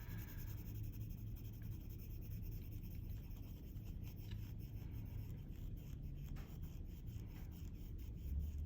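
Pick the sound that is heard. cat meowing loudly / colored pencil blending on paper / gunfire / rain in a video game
colored pencil blending on paper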